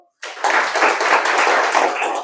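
Audience applause at a spiritual talk, a hall full of people clapping hands in a steady, dense wash that starts abruptly and carries on loud and even.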